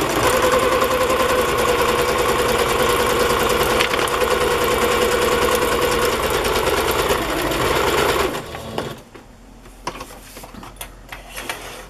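A sewing machine runs a zigzag stitch through lace, giving a steady, rapid mechanical hum and clatter for about eight seconds, then stopping, leaving only faint handling noises.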